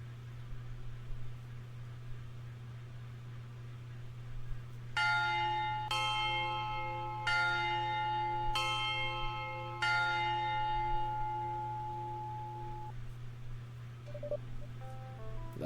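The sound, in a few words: school dismissal bell ringing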